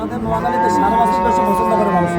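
A calf or cow moos at a cattle market in Noakhali, one long, loud, close bellow with rich tonal harmonics lasting the whole moment.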